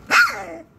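A collie puppy lets out a single short, sharp bark up close, a quick yip that trails off into silence.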